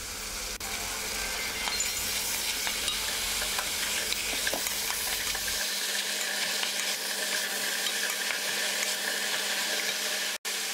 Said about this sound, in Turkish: Doğramış olduğum lahanaları da ilave edip üzerine güzelce birazcık lahanalar sürene kadar kavuruyorum.